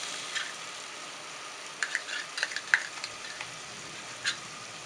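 Rabbit meat with tomato sauce being stirred in a hot pan, a soft steady sizzle broken by scattered scraping clicks of the utensil against the pot.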